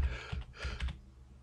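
A computer keyboard being typed on, a few soft muffled keystrokes in a quick uneven cluster, close but quiet, with no talking.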